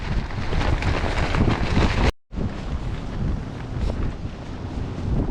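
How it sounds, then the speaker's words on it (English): Strong, gusty wind roars steadily across an outdoor microphone during a rifle deer hunt in Pennsylvania woods, loud and broadband, with a brief dropout partway through before the buffeting resumes; no talking. "the wind is not even close to slowing down"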